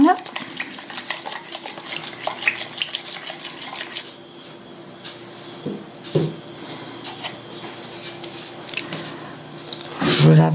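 A spoon stirs yeast into liquid in a bowl to dissolve it while making kouign-amann dough, giving soft, irregular scraping and swishing strokes close up, with a brief louder clink near the end.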